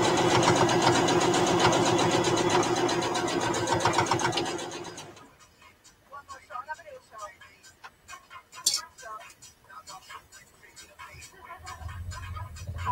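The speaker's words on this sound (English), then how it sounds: "Stitching on the corners as usual." A sewing machine stitches the corners of a small fabric purse, running in a loud, steady, rapid whir for about five seconds before stopping, followed by quieter handling clatter and clicks.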